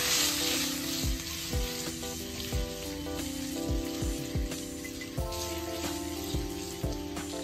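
Eggs frying in a pan with salt, turmeric and chilli powder, a steady loud sizzle with repeated scraping stir strokes of a spatula, continuous and close, with no talk.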